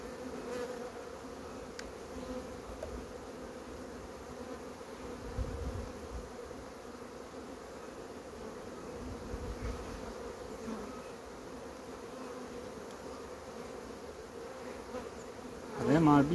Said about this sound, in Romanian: Avem albină și pe diafragma acolo